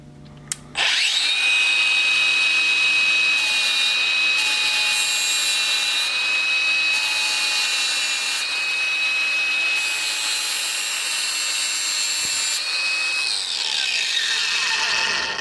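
Hercules 20V paddle switch grinder removing surface rust, whining loudly at a steady high pitch for about fourteen seconds, with abrasive grinding rising and falling as it bites, then spinning down.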